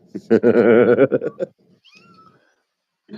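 A cat gives one loud, drawn-out meow close by, wavering for about a second before tapering into short chirps, then a faint murmur follows before a brief sound at the end.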